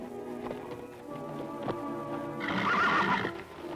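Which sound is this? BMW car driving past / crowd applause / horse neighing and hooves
horse neighing and hooves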